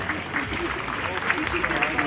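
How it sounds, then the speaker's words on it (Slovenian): An audience claps at a crafts fair in Ribnica, steady applause under a voice talking throughout. "Še en aplavz za zadnji."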